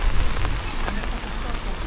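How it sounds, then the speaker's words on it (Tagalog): Steady heavy rain hissing across the whole clip, a dense broadband wash with a few brief louder spatters, no pauses. "lakas ng ulan"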